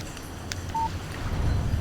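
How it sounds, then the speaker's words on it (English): Phone text message alert in the Alan Wake video game: a single short electronic beep tone, brief and clear over low background game ambience. "Text message from Barry."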